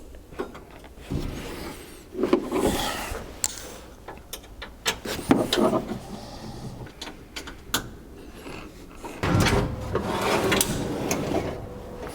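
A drawer in an Overland vehicle storage system slides out in stages, giving sliding rumbles, clunks and sharp metallic knocks at irregular intervals, close by with no talk.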